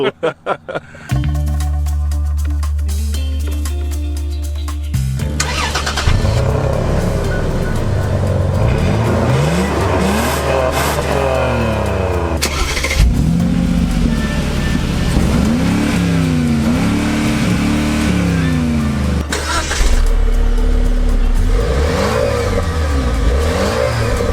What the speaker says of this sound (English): We're gonna put these things in 4x4 low, and we're gonna see which one actually has the slowest crawl ratio.